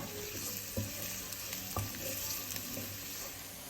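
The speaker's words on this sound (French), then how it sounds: "J'ajoute l'oignon ainsi que la gousse d'ail coupée en 2. On laisse cuire tout doucement." Onion and a halved garlic clove cook gently in a pan over medium heat, giving a soft, steady sizzle with occasional light stirring clicks and scrapes.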